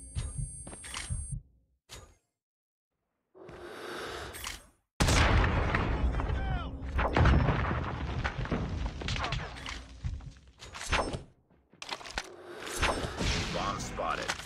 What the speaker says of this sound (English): Told you guys, there's a bomb.